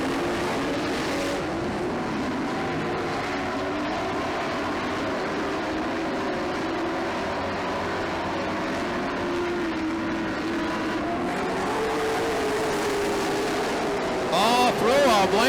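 Race cars roaring around the track at a Grand Nationals event, a continuous loud engine drone with shifting pitch as cars run side by side, under a commentator's steady talk.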